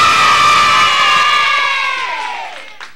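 A loud crowd cheers and shouts together, a sustained roar of many voices that gradually fades out over a few seconds.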